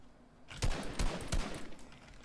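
Fortnite gunfire, a few loud, close shots in quick succession, one burst after another over a short span with a lingering rumble between them.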